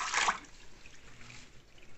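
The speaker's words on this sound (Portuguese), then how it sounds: "agora ele vai botar água aí no peixe" Water is poured into a cooking pot over a fish head for pirão, a brief splashing burst at the start that fades into a faint trickle.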